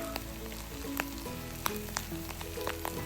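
Cooking oil sizzles steadily in a pan with scattered sharp pops and crackles rising out of the constant hiss, close up, with no talking.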